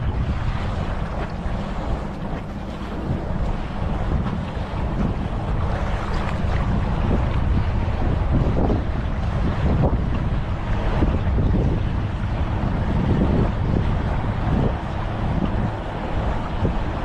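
A motorboat on the lake near Hoover Dam passes by with its engine rumbling low and steady under strong wind buffeting and splashing water, staying fairly close for the whole stretch.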